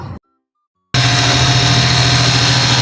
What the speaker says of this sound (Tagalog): pakita ko na nga rin pala sa inyo kung gaano kalakas nga yung buga nito